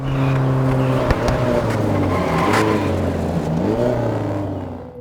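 Engine of an AI-driven car veering off-road in the racing game Test Drive Unlimited Solar Crown, a steady loud revving drone with shifting pitch as it accelerates, continuous throughout.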